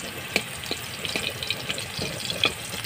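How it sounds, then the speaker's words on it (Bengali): Dried whole red chillies crackling in hot mustard oil in a pan, with soft scattered pops and sizzles that stay fairly quiet throughout. "লঙ্কাগুলো একটু ভাজা হয়ে গেলে রসুনটা দিয়ে দেবো।"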